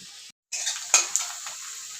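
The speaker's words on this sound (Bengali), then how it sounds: "দিয়ে দিলাম আদা রসুন আর জিরে পেস্ট" Ginger, garlic and cumin paste hits a hot pan with onions, sizzling loudly after a brief gap, while a utensil scrapes and clinks against the pan during stirring.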